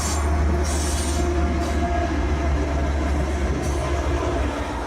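A freight train rolls through the Thompson River canyon, loud and close, a steady heavy rumble of wheels on rails with faint squealing and clatter throughout.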